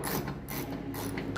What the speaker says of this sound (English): we have to remove the bolts for the regulator